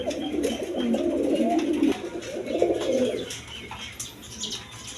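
Pigeons coo repeatedly in a low, rolling murmur, a male pigeon calling steadily from close by among a flock of coloured pigeons, with faint chirps in the background.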